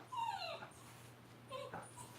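A pet dog whimpers indoors in two thin, high, wavering whines with a pause between, quiet and close over a low steady hum.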